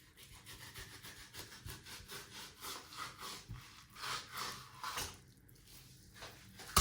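A knife separating skin from a whole salmon fillet rasps in quick, even back-and-forth strokes, a soft scraping rhythm up close, ending in a sharper click.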